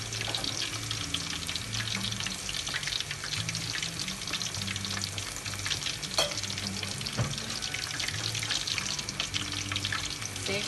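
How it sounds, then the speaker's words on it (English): Pork chops of mixed sizes frying in a pan, a loud steady sizzle with crackling spatter throughout, a few sharp clicks of utensils and no voices. "the bigger piece one I need to fry it a bit longer."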